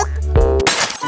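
A dropped phone hits the floor and its glass cracks, giving one sharp, close impact followed by a brief bright shattering rattle.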